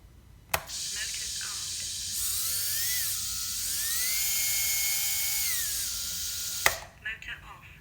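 GEPRC 1202 brushless drone motors spin without propellers, a thin high-pitched whine that rises and falls in pitch, starting and stopping with sharp clicks.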